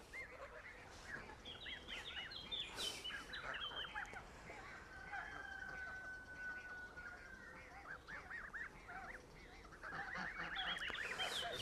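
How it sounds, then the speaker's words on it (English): Geese and goslings on a homestead honk and chatter repeatedly in a scattered outdoor chorus, moderately distant and fairly faint, with a voice speaking briefly. "These are the goslings that I left to grow here."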